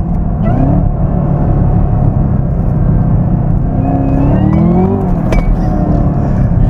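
A loud Camaro ZL1 engine with a new intake revs and rumbles continuously, its pitch climbing and sweeping with throttle changes, a whine riding on top.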